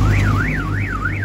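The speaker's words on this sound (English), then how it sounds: "This car making noise, guys." A car alarm wails on a busy street in Libreville, Gabon, its pitch sweeping up and down in a steady repeating siren cycle, loud and fairly close over a low traffic rumble.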